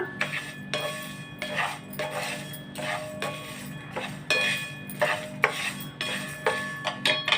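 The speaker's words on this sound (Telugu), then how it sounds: "జాగ్రత్తగా వేపుతున్నాను నువ్వులు మాడకుండా" Sesame seeds and urad dal roasting over low heat in a pan for flaxseed chili powder, stirred with a spatula that knocks and scrapes the metal in a steady rhythm of close clinks.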